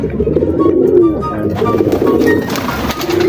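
Close, loud pigeons cooing in soft throaty bursts, several overlapping calls with a rustle of movement in between.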